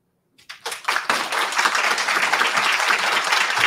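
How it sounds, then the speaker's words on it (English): Audience applause at a New Jersey congressional district debate, swelling quickly from silence into steady, dense clapping that holds at full strength to the end. "if we could hold the applause, please"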